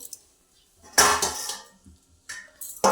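A lid set onto a cooking pot of bitter gourd curry makes a couple of short, close metallic clanks and rattles with quiet gaps in between.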